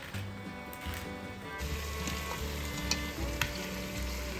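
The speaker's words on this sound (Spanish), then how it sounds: "Y lo único que hago es ponerlas en la sartén con un chorrito de aceite a fuego medio bajo" Frozen food frying in a pan with a splash of oil over medium-low heat gives a steady, close crackling sizzle with occasional brief pops and stirring scrapes.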